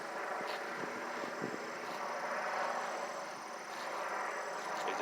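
A black and white helicopter circles low over a house, its rotor wash heard as a steady, fairly faint drone with no voices.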